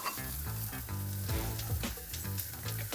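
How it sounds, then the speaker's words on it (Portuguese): Deseeded chili pepper sautés in a pan with a continuous loud crackling sizzle and occasional stirring scrapes, close up, while music plays underneath. "a gente vai já acrescentar aqui e vai refogar tudo para os sabores já irem aprimorando"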